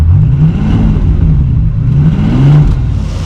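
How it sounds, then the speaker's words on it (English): A wrecked Bentley Continental GTC with a W12 engine runs at a steady idle close by, a deep, even drone that holds for a few seconds with slight wavering in pitch. "Engine sounds pretty good, pretty healthy,"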